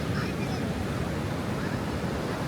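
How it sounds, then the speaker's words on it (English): Ocean waves washing onto a beach, a steady broadband roar of surf with some wind noise, filling the whole stretch at a moderate, even level. "But this is the ocean. We made it to the ocean this time."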